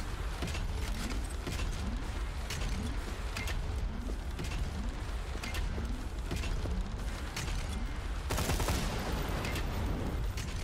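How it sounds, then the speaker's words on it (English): Gunfire and rocket blasts in Borderlands 2, a dense and continuous barrage. Rapid repeated shots run under a steady loud wash, and a bigger blast swells near the end. "Who's shooting me with rockets?"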